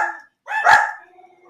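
Dogs barking, a close, loud single bark followed by a trailing whine or yip within a moment, alone with no talk.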